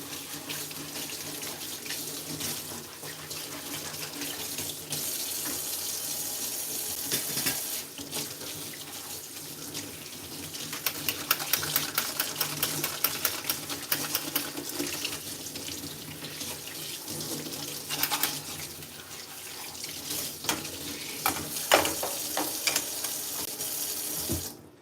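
Water runs steadily from a sink tap for a cat to drink, a continuous close splashing hiss that carries on without a break with small shifts in the flow.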